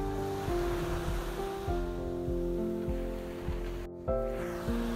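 Rough sea waves wash onto the Tachiyama shore of Tanegashima in Kagoshima, a steady roar of surf largely masked by music playing over it, with a brief gap near the end.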